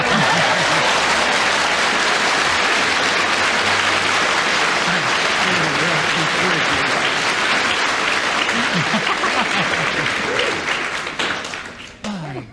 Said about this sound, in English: Kenneth Williams, a well-deserved round of applause.